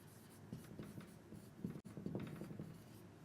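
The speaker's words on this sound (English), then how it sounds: "Let's write it down." Pen or pencil scratching quickly across paper while writing a list, a soft close scribbling in short bursts, with one brief pause in the middle.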